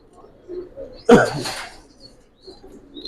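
Silver Pankhi military pigeons coo softly in low, intermittent murmurs, with one sudden louder flutter-like burst in the middle, in an otherwise quiet space.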